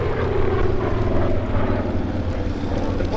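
Saab B17 propeller bomber flying over Duxford during the 2024 Battle of Britain airshow, its engine a steady droning roar with wind rumble at the microphone, loud and sustained throughout.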